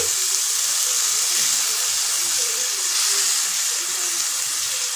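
Cluster beans sizzle in frying masala and oil, a steady, even hiss of crackling fat that holds without pause throughout, close and fairly loud with no talk.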